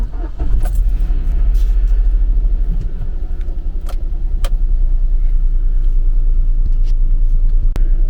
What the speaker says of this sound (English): let's get the old car warmed up